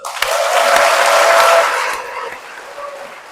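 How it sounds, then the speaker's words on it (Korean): A Catholic parish congregation in a church applauds its parish priest in a brief, loud burst that swells and then fades within a few seconds. "본당 신부님 박수!"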